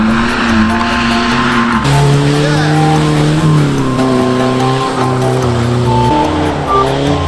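A van is driven hard at full throttle, its engine loud and close. The revs climb and fall in long, strained pulls, and one sudden shift in pitch comes partway through.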